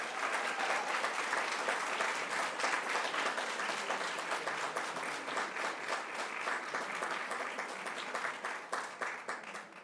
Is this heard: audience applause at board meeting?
yes